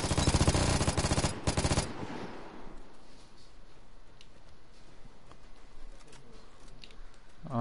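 Heavy automatic gunfire from big guns in the video game Vigor, a loud dense burst of rapid shots for about two seconds, then fading into quieter scattered game noise and distant pops.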